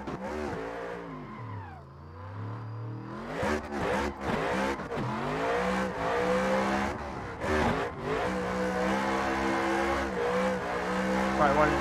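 Race car engine from a simulated RTR competition car in Assetto Corsa, revving and shifting through a lap with rising and falling pitch, brief tire squeal, steady and loud with a voice talking over it.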